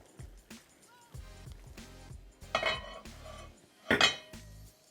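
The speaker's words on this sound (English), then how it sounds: "And place your basket on top. And go ahead and put your fish and then cover" A metal steamer basket set down on a pot over a rolling boil and then covered, producing several clanking, rattling knocks of metal on metal with two louder hits near the end.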